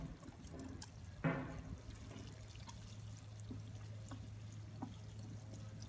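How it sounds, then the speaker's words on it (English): Water poured onto a potted strawberry plant in a clay pot gives a faint, steady trickle with a few soft splashes and drips, heard close up without talk. "We're now going to water the strawberry here."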